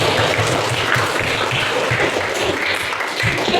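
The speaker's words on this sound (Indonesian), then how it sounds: "Tepuk tangan untuk kalian semua" A class of students clapping their hands in applause, a dense, steady burst of many hands sustained throughout at even loudness, with no talking.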